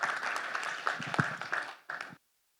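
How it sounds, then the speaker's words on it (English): Audience applause at a community learning camp in Bangalore: a dense burst of clapping for about two seconds, a short pause, then a brief final flurry before it cuts off. "Please give a big round of applause for yourself."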